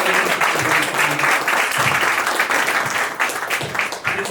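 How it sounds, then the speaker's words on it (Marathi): Audience applause for performers at the close of a Marathi talent show, a dense, steady wash of many hands clapping that carries loudly throughout and thins slightly near the end. "सगळ्या परफॉर्मन्स जे झाले त्यांच्यासाठी एकदा खरंच मनापासून टाळ्या वाजवा"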